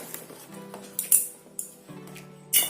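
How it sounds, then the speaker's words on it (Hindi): A Zebronics gaming keyboard is pulled from its box, giving light plastic clicks, knocks and rustles in a few separate bursts, fairly close and with no talking. "इसको निकाल लेते हैं बॉक्स से,"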